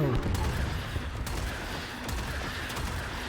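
Weapons firing in Warframe, a dense continuous stream of rapid shots and impacts with mechanical clatter, loud and close throughout, with a voice speaking in the background.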